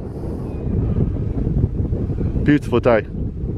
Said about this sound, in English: Very windy, as you can tell.